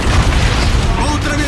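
A heavy, rumbling explosion from Call of Duty: Infinite Warfare booms loudly up close as an enemy destroyer goes down, its deep blast rolling on with crackling debris.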